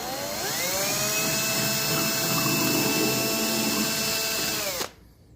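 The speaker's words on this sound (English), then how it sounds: "What you're going to do is get you a small drill bit and go through." A power drill with a small bit bores through a carbon fiber hood on a Mustang GT500, its whine climbing quickly to a steady high pitch, holding loud and close for about four seconds, then stopping abruptly.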